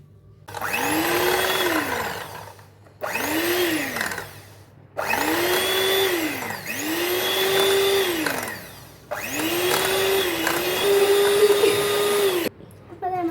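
Electric hand beater whipping Black Forest cake batter in a bowl, a loud whirring motor running in four long bursts with short pauses between, its pitch rising and sagging as it works through the mix.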